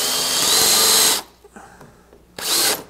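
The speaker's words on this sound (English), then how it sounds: "I'm going to put in some 1¼ inch coarse thread like drywall screws" A power drill drives 1¼-inch coarse-thread drywall screws into reclaimed wooden stair treads for a sawhorse in a shop, in two loud, close whirring bursts separated by a short quiet gap with light handling noises.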